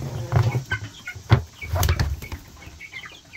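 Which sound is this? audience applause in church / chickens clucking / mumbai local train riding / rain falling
chickens clucking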